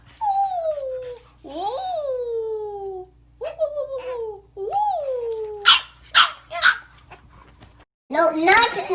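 A small puppy yelps, whimpers and barks in a series of high, close bursts, with whining rises and falls and a few sharper barks near the end.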